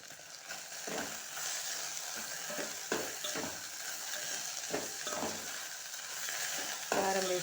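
Okra frying in a pan with chili powder gives a soft, constant sizzle close by, broken by repeated scraping stir strokes at an uneven rhythm, with no talking.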